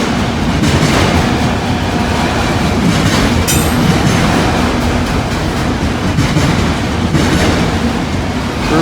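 A freight train rumbles past at close range, its wheels keeping up a loud, steady clickety-clack over the rail joints, with a brief metallic squeal cutting through partway.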